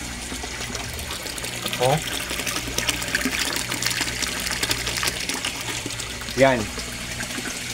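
A Resun aerator pump gushes and splashes water in a koi fish pond with a continuous churning flow, and a voice briefly exclaims over it.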